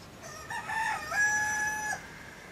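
A rooster of an old Alpine chicken breed crows once, a clear, close two-second call that rises and holds against a quiet background.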